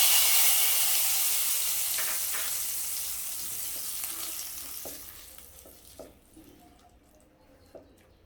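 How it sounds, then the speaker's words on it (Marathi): Loud, intense sizzle as a hot oil tempering is poured onto tomato chutney, fading gradually over several seconds into quieter crackles and occasional soft clicks. "आता ही फोडणी आपण जी चटणी तयार केली आहे ह्यावर घालणार आहोत"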